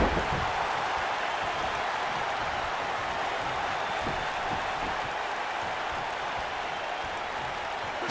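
A packed arena crowd in the WWE 2K19 video game roars and cheers as a continuous, even wash of noise, fairly soft and unbroken, with no commentary over it.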